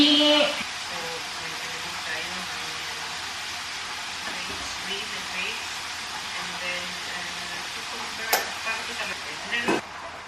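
Breaded chicken frying in hot oil, a steady hiss and sizzle close by, with a few sharper clinks and stirs near the end and a voice talking over it.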